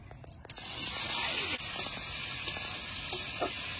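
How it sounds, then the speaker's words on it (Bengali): Prawns frying in hot oil give off a loud, steady, close hiss and spray that begins with a sharp burst and then holds constant, with faint crackles throughout. "চিংড়ি মাছটা ভেজে নেব।"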